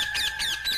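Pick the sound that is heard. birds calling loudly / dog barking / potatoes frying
birds calling loudly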